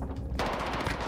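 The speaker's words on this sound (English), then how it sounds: "Shotgun." Gunfire from a Call of Duty match, a sudden dense blast cutting in partway through and carrying loud and close to the end, with rapid overlapping reports and no pause between them.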